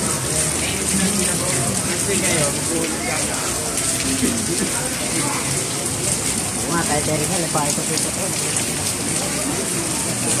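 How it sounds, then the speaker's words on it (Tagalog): Rain pours onto a street in Novaliches, Quezon City, in a loud, dense, continuous hiss of drops, with faint voices and street activity underneath. "maulan, pabugso-bugso yung ulan guys"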